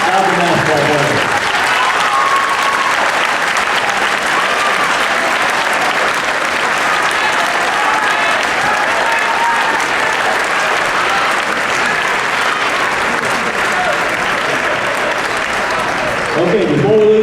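A gym crowd at a high school basketball ring ceremony applauds the state runner-up team, giving loud, sustained clapping that fills the space evenly for about sixteen seconds with no pause, and a few voices rise near the end.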